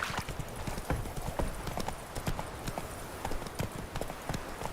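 Hooves of a horse trotting in The Witcher: Wild Hunt game make a steady, close rhythmic clip-clop on the ground, repeating evenly throughout.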